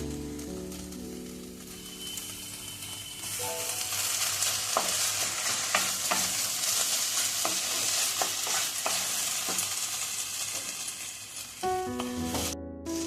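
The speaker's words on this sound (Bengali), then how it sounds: "এই আদা কাঁচা লঙ্কা বাটার অর্ধেকটা আমি এর মধ্যে দিই" Ginger and green chili paste hits a hot frying pan and sizzles steadily for several seconds, with stirring scrapes in the middle, close and loud and with no talking.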